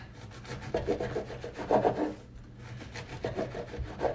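A knife saws back and forth through bread, cutting it into half-inch strips for Thanksgiving stuffing, a rhythmic, close, raspy crunching with short pauses between strokes.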